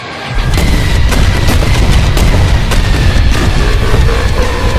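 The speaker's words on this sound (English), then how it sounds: "A quick artillery barrage onto an enormous patch of biters." Artillery shells pound an enormous patch of biters in the video game Factorio, a loud, sustained rumble of overlapping booms rolling on without pause after a brief quiet start.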